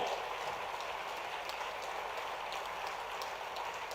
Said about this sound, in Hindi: तालियों की गड़गड़ाहट से हम शिवराज सिंह जी को धन्यवाद दें।